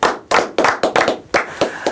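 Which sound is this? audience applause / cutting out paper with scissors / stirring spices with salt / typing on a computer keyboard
audience applause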